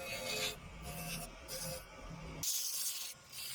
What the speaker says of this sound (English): I use a scraper to remove the tool marks.